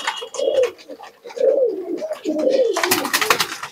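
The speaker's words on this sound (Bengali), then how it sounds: "নিচে বাজির কবুতর হবে।" Red tumbler pigeons offered for sale coo up close in several repeated, rolling phrases. A burst of rustling and scuffling noise joins near the end.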